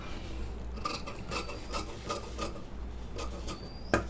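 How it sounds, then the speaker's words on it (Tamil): Scissors cutting cross-grain bias strips about one inch wide from a fabric border for a pot-neck blouse: a run of soft, rasping snips at close range, with one sharper click near the end and no talk. "இப்போ நான் வந்து இது கிராஸ் பீஸ் கட் பண்ணிக்கிறேன்"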